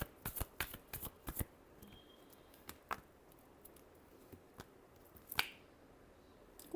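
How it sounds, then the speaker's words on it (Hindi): Tarot cards shuffled close by in a quiet room: a quick run of crisp riffling snaps at the start, then sparser single flicks and taps, with no voices. "लास्ट शफल, क्या सिचुएशंस बनेंगी।"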